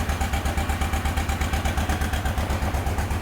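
An engine idles steadily after a cold start, the run held a bit above 1200 rpm, with a fast, even pulsing throb that stays loud and close throughout, with no talk.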